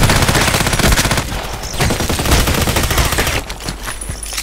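Dense gunfire and explosions from the online shooter Contract Wars, with rapid automatic bursts and heavy booms crowding together loudly for the whole stretch without a pause.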